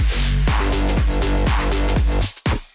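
Electronic drop with a heavy bass hitting roughly every half second, layered with a second bass sound and a sustained supporting synth, loud and dense, no voices.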